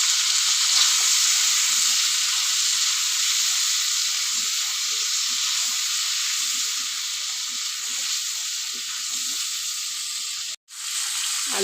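Potatoes and cauliflower seasoned with salt and turmeric fry steadily in a pan, giving a close, continuous sizzle with a soft crackle that holds at an even level and cuts out briefly near the end.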